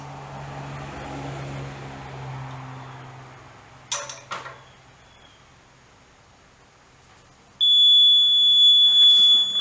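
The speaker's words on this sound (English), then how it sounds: "it actually beeps. Actually, it's a very annoying beep." After a quiet hum and a couple of brief clicks, a shrill, piercing electronic beep sounds continuously for the last couple of seconds, loud and close.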